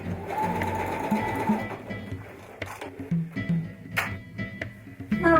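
Sewing machine stitching a four-hole button in place, a rapid, steady mechanical whirr with fine clicking, near and continuous, pausing briefly and restarting as the button is shifted.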